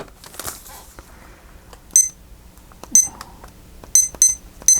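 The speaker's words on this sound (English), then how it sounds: "I need to start my timer" A timer being started, giving a handful of short, sharp electronic beeps, first singly and then in quick clusters, close and loud against a quiet room with light handling noise.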